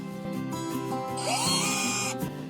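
A power drill with a 3 mm wood bit bores a pilot hole in wood. The motor whines steadily and rises into a brighter, harder tone while the bit cuts, then eases off, close and clear.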